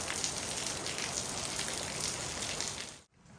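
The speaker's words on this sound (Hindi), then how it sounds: "बारिश फिर से होने लग गई है।" Rain falls steadily on surfaces during a road trip in the hills near Bhimtal and Nainital, a soft continuous patter with fine drop ticks, cutting off abruptly near the end.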